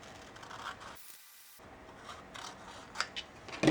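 Scissors snip through paper, cutting out a thick tail shape for a toilet paper roll dinosaur craft: close, quiet rasping cuts with a short pause, then a few sharper snips near the end.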